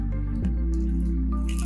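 Water trickles and drips from a small pink or yellow toy water filter, a steady close liquid flow with a squishy onset and a constant low hum underneath.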